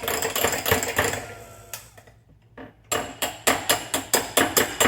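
A hand beater whirs in bursts through tiramisu cream, with loud buzzing runs at the start and rhythmic pulses toward the end, separated by a short, quieter pause.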